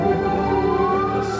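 Ambulance siren recorded during heavy rain in the UAE, a steady wailing tone with slowly rising pitch, sounding continuous and fairly loud over the whole short stretch, with no talk.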